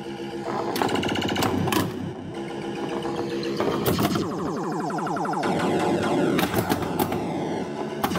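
A Firepower II pinball machine plays loudly at close range in an arcade, a dense clatter of electronic sounds, rapid mechanical knocks, flipper clacks and bumper hits that fires in busy bursts without pause.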